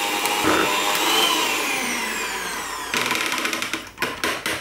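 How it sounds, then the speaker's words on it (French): Electric mixer whisking cold mascarpone and cream at maximum speed, a loud high whine that shifts in pitch, then pulses into short bursts as the speed changes near the end, no talking. "je fouette pendant 30 secondes en mettant donc"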